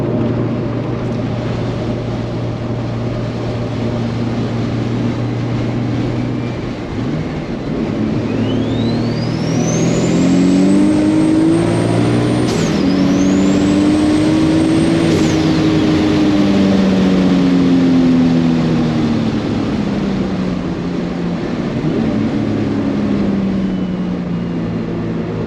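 A turbocharged car engine fitted with a Precision 7675 dual ball bearing turbo revs up and drops back twice, with a rising and falling turbo whistle over a loud steady drone, then settles to idle.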